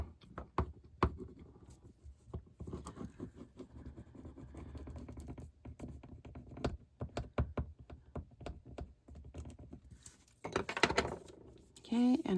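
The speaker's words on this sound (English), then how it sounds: "And then I'll use my bone folder and I'll rub it down." A bone folder rubs down a paper piece in a card-making project with a series of soft, close scraping and tapping strokes, uneven in rhythm, with brief rustling near the end.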